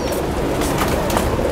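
Champion racing pigeons coo nearby, a continuous low burbling with some rustle and wing movement, fairly loud and alone without speech.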